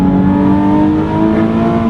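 Loud, close engine note from a 400-horsepower Nissan 370Z Nismo held at high revs, a strong steady tonal drone with a slight waver, alone with no talking.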